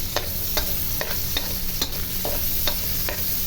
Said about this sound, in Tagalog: Pwede na rin natin ilagay ang ating kamatis na freshly harvest sa ating terrace.